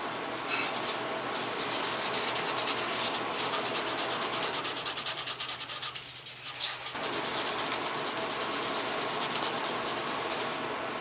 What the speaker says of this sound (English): we're not trying to modify the leather, we're just trying to burnish it.